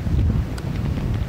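Strong gusting wind buffets the microphone on an exposed links golf course during a women's professional tournament, a continuous low rumbling roar that stays loud and steady throughout with no voices.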